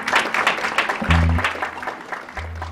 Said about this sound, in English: a warm welcome, a warm round of applause for one of the great bluesmen of our time